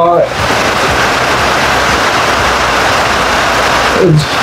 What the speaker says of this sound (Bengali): খুব জোরে বৃষ্টি শুরু হয়ে গেছে